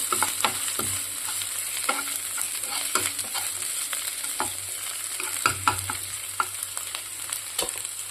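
Ginger and garlic frying in a pan while being stirred, with a steady sizzle throughout and repeated scraping strokes of a utensil against the pan, close and moderately loud, no talking.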